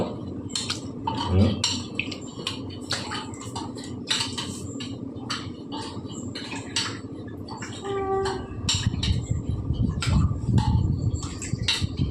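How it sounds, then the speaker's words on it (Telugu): Toor dal being washed with water in a bowl at home, close splashing and swishing with frequent clinks of the bowl against other kitchenware, continuous over several seconds. "కందిపప్పులో నీళ్ళు పోసినాను. దీన్ని బాగా కడుగుతున్నాను."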